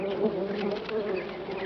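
Honeybee buzzing nearby, a steady close droning hum with slight wavering pitch, alone without voices.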